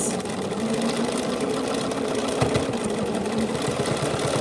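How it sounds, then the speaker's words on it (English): A sewing machine stitches close to a seam line on the top pocket piece of a pair of pants, running in one steady, continuous drone that sits close and loud throughout. "So now we're gonna sew really close to that seam line, but on the top pocket piece."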